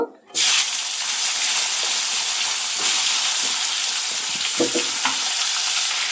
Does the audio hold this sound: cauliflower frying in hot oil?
yes